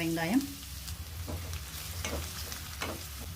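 Onion frying in a pan with ginger and garlic gives a low, steady sizzle, with occasional spoon scrapes and stirring knocks; a brief tone sounds at the start.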